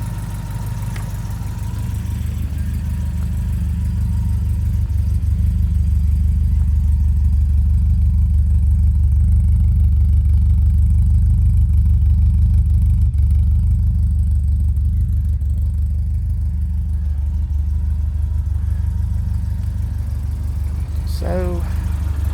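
An old-school Toyota Celica RA25GT engine with a carburettor leak runs close by, giving a loud, steady low rumble with rough rattling and a faint rise toward the end.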